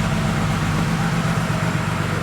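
A car engine idles roughly after brake cleaner was sprayed into the intake manifold, with a steady loud low rumble and a slightly uneven, lumpy pulse throughout, no talking.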